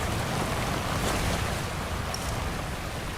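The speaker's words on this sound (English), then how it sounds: "A sudden gust of wind starts blowing mist from the waterfall." Steady broadband roar of wind and waterfall spray in the Seti River gorge in Nepal's Himalayas, a continuous loud rushing wash with no distinct gust onset and no voices.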